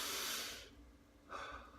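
Deep, forceful breaths drawn in and pushed out through nose and mouth as a breathing exercise: a long loud rushing exhale, a pause, then another strong breath starting, close and alone.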